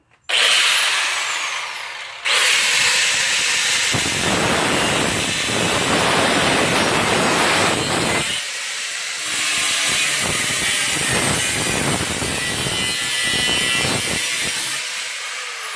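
A power tool, likely a cutting disc or saw, slices through the seat pan of a 1974 Honda CB350F motorcycle: a loud, steady grinding whine runs almost continuously, with short pauses and changes in pitch as the cut progresses.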